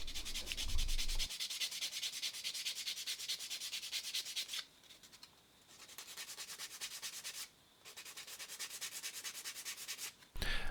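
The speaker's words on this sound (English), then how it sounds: "I actually ended up sanding all the way down to grit 400" Wooden minnow lure body sanded by hand with fine 400-grit paper, a steady rhythmic rasping in close strokes that pauses twice and then resumes.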